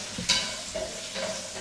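Chicken and vegetables for fried rice sizzle in a pan, a short close burst of frying with a sharp clatter of the pieces going in.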